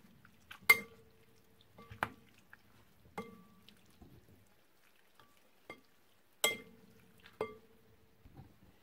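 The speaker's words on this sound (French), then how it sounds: "va verser le vinaigre préparé tout à l'heure dans le bol de jambon et de couenne. Et on va mélanger tout ensemble." Ham and pork rind being stirred with vinegar in a bowl, giving scattered clinks and scrapes of a utensil against the dish at irregular intervals, a few sharper taps standing out in an otherwise quiet kitchen.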